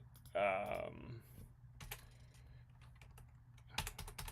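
Typing on a computer keyboard: brief bursts of clicky keystrokes, loudest in a quick cluster near the end, with a short voice and some background noise near the start.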